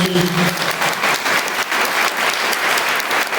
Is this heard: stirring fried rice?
no